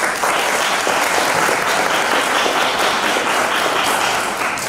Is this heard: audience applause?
yes